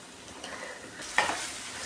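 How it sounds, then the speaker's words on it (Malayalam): Tomato paste masala frying in a pan for chicken roast, stirred with a spoon: a soft continuous sizzle with a brief scraping clink near the middle, close and quiet, no voices. "2 മിനിറ്റ് നേരം ഇതിളക്കി കൊടുക്കാം"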